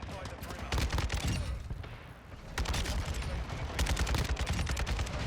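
Kastov 762 rifle fire in a first-person shooter game, loud close rapid bursts of shots in two sustained volleys with a brief lull between them.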